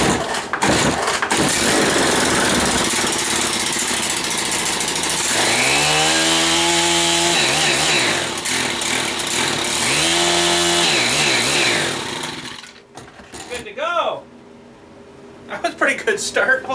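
A Stihl FS80 weed trimmer engine, with its cover off, is pulled over and fires, then runs loud and continuous with rising revs for about twelve seconds before cutting back to quieter sputtering and handling noise.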